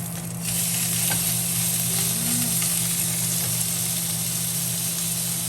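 Steady hiss and crackle of food frying in a hot pan, loud and continuous with no talking.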